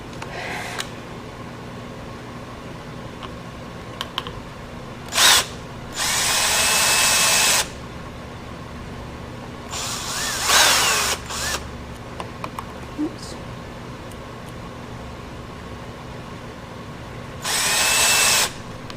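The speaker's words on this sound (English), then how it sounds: "I'm just screwing them in there so it kind of keeps the screws from protruding all the way out" A power drill drives screws into a 9x12 photo frame standoff, sounding in several separate bursts: a short one, a longer run of a couple of seconds, another around the middle and a final burst near the end, with quiet handling between.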